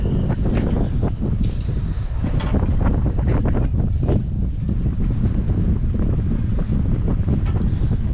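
Strong wind batters the microphone at sea beside a moored boat after a storm, making loud continuous buffeting rumble with gusty swells and water sloshing underneath.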